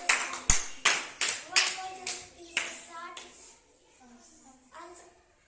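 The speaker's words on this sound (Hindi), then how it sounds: "ताली बजा दीजिए सभी लोग इनके लिए।" Children in a classroom clap in a burst of applause, sharp rhythmic claps close by that gradually thin out and fade, with a few children's voices mixed in.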